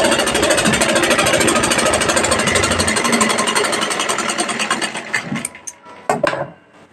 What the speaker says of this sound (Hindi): अब एक बूट की सिलाई लगाना है